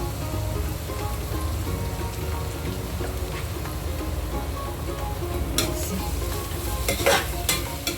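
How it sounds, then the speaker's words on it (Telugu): Ginger garlic paste fries in a pan for an Andhra-style egg curry, a dense, constant sizzle with stirring scrapes near the end and no talking. "చూడండి, అల్లం వెల్లుల్లి పేస్ట్ కూడా చక్కగా ఫ్రై అయిపోయింది."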